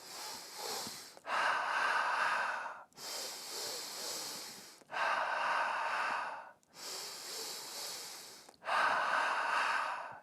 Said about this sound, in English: we inhale through the nose, and we do 3 inhales, and we exhale through the mouth, and we do 3 exhales